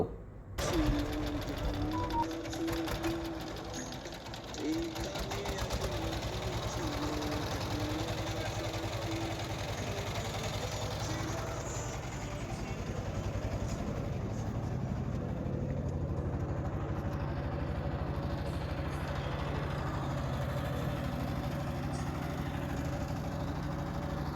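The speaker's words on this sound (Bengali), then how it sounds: "এখন কিন্তু আমাদের এই সেলো মেশিন বা নৌকা এটা স্টার্ট করবে" Engine of a shallow-draft river boat on the Padma River starting with a sharp burst, then running steadily with a constant mid-pitched mechanical drone and rattle throughout.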